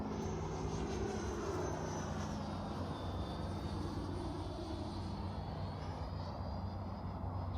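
An FMS Avanti 90mm thrust vectoring RC jet flying on 6S power, a continuous loud ducted-fan roar with a high whine that slowly shifts in pitch as the jet passes, with no talk.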